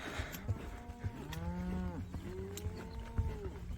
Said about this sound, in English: we allow the cows to mother up before we push them back out to the southernmost pasture